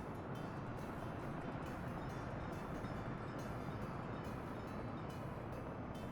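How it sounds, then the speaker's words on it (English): Steady, dense rumble of a train rolling past in Workers & Resources: Soviet Republic, a continuous broadband roar that holds at constant loudness throughout with no voices over it. "Had to wait for a train."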